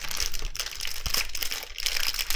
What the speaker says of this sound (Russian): Тут два пакетика со специями.